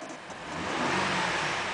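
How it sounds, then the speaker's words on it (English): A 2007 Saturn Aura XR car engine revs up from a low rumble, rising in loudness over a couple of seconds and holding steady, close and alone. "I'm gonna rev it, so pay attention to the gauge on your left so you can see it's running"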